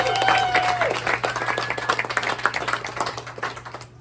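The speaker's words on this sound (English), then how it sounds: "Give yourself a round of applause." A crowd claps in applause at a Black History Month salon gathering, the dense clapping mixed with scattered voices and cheering whistles over a steady low hum, gradually thinning toward the end.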